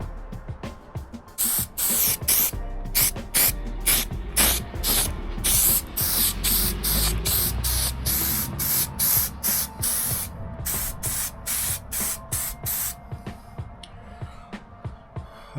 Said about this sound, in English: I'm just putting some of this on to the wood because contact adhesive